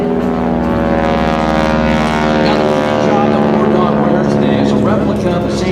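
An AT-6 Texan propeller airplane performing at the MCAS Miramar airshow, its engine giving a steady, loud, harmonic drone that holds throughout with no break.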